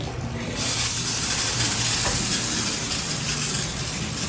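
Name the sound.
shower head water flowing after pulling ring diverter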